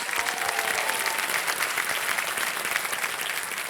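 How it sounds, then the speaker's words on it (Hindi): A studio audience claps to welcome a contestant on the Hindi quiz show Kaun Banega Crorepati, a loud, dense and continuous burst of applause with a faint musical tone under it for the whole stretch. "तालियों के साथ इनका स्वागत किया जाए।"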